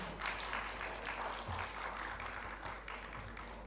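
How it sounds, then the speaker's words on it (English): A conference audience gives steady, continuous applause to welcome the session chair at a sustainability education plenary. The clapping is moderately distant and even, over a constant low hum. "So just welcome him with your round of claps"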